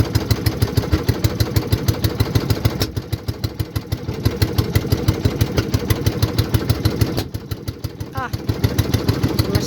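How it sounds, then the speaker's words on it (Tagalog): A motorcycle engine idles in Subic, Zambales with a steady, rapid low throb and occasional pops, close and loud throughout, briefly dipping in level at two points. "Masabog yung makina namin."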